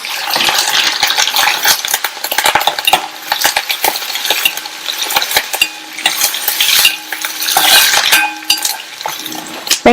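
Sliced onions and curry leaves sauté in oil with fennel seeds, a loud close crackling sizzle punctuated by repeated clinks and scrapes of a metal spoon against the pan.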